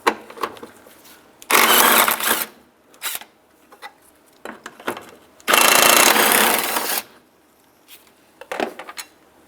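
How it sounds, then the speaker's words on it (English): Bolts come out of a headlight assembly on a 2003-2011 Honda Element, with two long, loud bursts of a power tool whirring and rattling, separated by quieter clicks and handling noises, close by. "we're going to take those bolts out."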